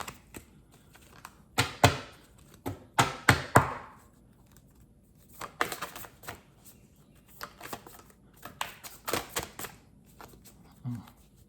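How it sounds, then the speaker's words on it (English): Bursts of shuffling a slightly sticky deck of oracle cards come in quick clusters of flicks and riffles, separated by short quiet gaps, close and fairly soft. "Let me do another shuffle with these cards."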